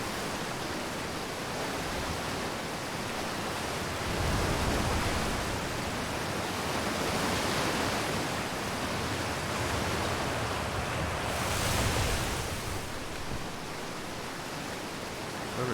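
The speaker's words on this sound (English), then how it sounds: "Big old waterfall." A big waterfall in the Outer Wilds game rushes as a steady, broad roar, continuous and fairly loud throughout, with a slight swell near the end.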